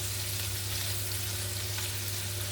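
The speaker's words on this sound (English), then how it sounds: "you're just browning the meat" Meat browning for a steak and oyster pie sizzles and spits steadily in a frying pan, a continuous close crackle with no voices.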